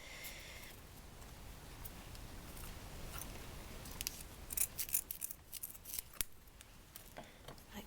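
Scissors snipping through card for a handmade Yule card, a run of quiet close crisp cuts that grow sharper and more clipped toward the end.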